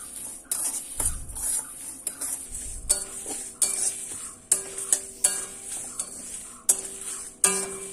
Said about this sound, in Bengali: মশলাগুলো ভালো করে ভেজে নিয়েছি, তোমরা দেখতে পাচ্ছ